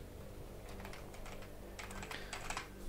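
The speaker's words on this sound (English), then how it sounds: "I can hear you typing away there for the overlay" Rapid typing on a computer keyboard during a Bloodline Champions tournament broadcast, irregular clusters of close, crisp key clicks with brief pauses, loudest toward the end, heard alone without talk.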